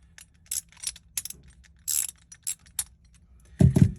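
A socket wrench loosening a bail-handle part held in a vise, giving short bursts of ratcheting clicks with pauses between, ending in a heavier clunk.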